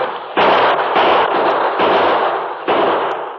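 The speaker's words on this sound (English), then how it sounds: "Keep the bullets flying, men." Gunfire in a radio drama shootout, a few sharp, loud bursts of shots that follow one another closely, each trailing into a rough, echoing crackle.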